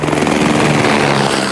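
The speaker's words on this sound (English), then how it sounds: "Ross Hendel used the 7 News helicopter to find his sheep." A news helicopter flies over flooded country around Thallon, its rotor and engine noise a steady, close, loud drone with a rhythmic chop that holds constant throughout.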